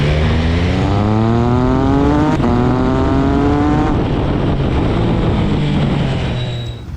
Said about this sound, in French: Écoutez-moi ce son, écoutez-moi le bruit, enfin la sonorité, la symphonie de ce moteur.